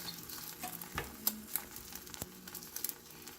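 Egg omelette mixture sizzling in a pan while a utensil stirs it, a soft continuous frying crackle with scattered scraping and tapping clicks, close and quiet, no voices.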